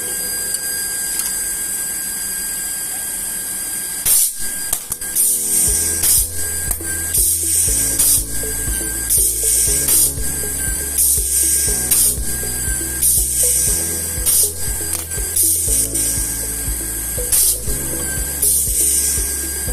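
A pneumatically operated rocker arm spot welder, an Electroweld SP 40P, joins 1 mm thick components at 40 to 45 psi. Loud repeated cycles of hissing air and mechanical thumps come at irregular intervals over a constant electrical hum, with no talking.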